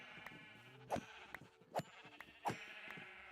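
Sheep in Minecraft bleat three times, each a short, wavering cry spaced about a second apart, fairly quiet against a soft background.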